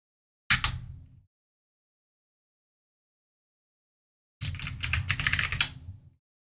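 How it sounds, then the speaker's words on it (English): Two separate bursts of close computer keyboard typing, one short burst of a few keystrokes and then a longer, quick run of clacks, with silence between them. "I'm typing all of this in the wrong spot."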